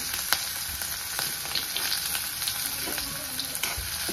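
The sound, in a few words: chopped onion, cumin and mustard seeds frying in oil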